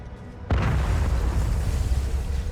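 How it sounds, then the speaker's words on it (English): A sudden explosion in the video game Hell Is Us bursts in with a sharp onset, then rolls into a loud, sustained low rumble that lingers to the end. "Explosion."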